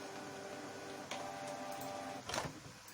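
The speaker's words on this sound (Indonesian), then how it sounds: "Kita coba buat print beberapa lembar ya." A new cartridge inkjet printer, one producing broken, streaky prints, runs through several pages with a soft mechanical whir, faint ticks and a couple of louder carriage or paper-feed shuffles partway through, with no talk.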